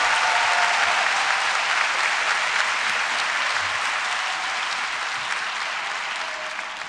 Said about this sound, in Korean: 더 큰 박수로 환호를 보내주시면 감사하겠습니다.